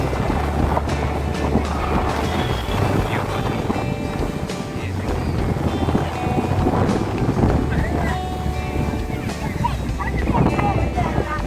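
Rough ocean surf and gusting wind at Rameshwaram, Tamil Nadu, during the rainy season, a steady broadband roar with wind buffeting the microphone and voices talking over it.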